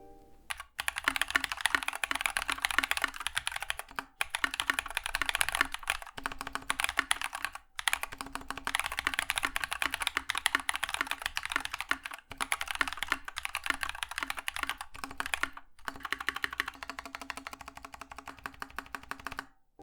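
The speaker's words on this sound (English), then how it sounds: "And here's the sound test completely stock." Steady, close typing on a keyboard fitted with stock Glorious Panda tactile switches and PBT keycaps, a dense run of crisp keystrokes with a few brief pauses and no talking.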